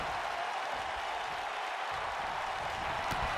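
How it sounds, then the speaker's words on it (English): A wrestling crowd cheers and applauds in a steady, dense roar that fills the whole stretch without a break, with no clear voice above it. "Garen Hale basking in the crowd right now."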